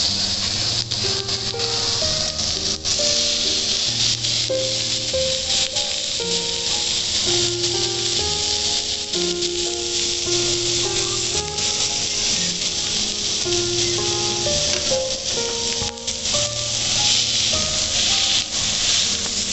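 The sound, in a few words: tandoori broccoli sticks frying in hot oil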